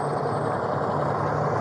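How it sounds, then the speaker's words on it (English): A loud truck engine rumbles close by on a street, a dense steady roar with low droning tones that holds at full volume throughout, with no talk over it. "That truck's going to be really loud."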